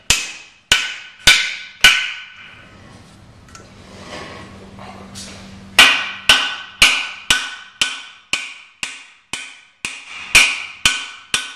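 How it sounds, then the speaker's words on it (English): Guide pins are hammered into a pump power frame assembly in a loud clean room, with a rapid series of sharp metallic strikes, three at first, a pause with low machinery hum, then a quicker run of about a dozen evenly spaced blows. "Like these guide pins, you drive this in after you tighten."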